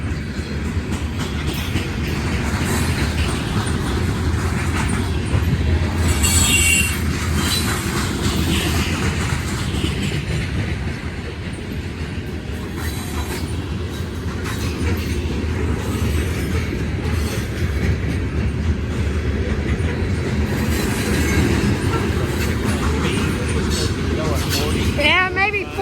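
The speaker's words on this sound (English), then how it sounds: "So this is the grain train." Union Pacific grain freight train rolling through a town, a long steady roar of wheels and railcars clattering past at close range for the whole stretch, with brief wheel squeal near the end and voices talking at times.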